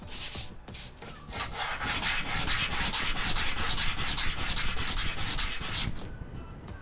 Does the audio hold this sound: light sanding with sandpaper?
yes